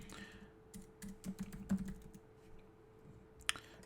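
Computer keyboard typing while creating a form in Kajabi: scattered quiet key taps in uneven bursts, with one sharper click near the end, close and soft against a faint steady hum.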